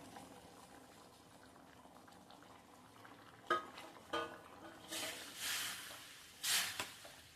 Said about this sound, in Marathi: आता हे छान उकळून द्यायचंय एक पाच मिनिटं